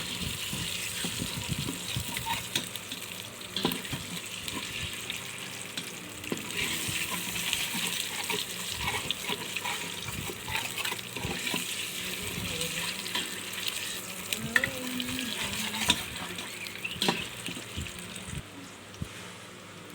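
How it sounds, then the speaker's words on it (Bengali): Eggs fry in a pan in a mess kitchen, giving a continuous soft sizzle with scattered scraping and stirring clicks, heard fairly faintly throughout with no talk. "যতক্ষণ ডিমগুলো ভাজা না হয় ভালোভাবে ততক্ষণ ভাজতে থাকবেন"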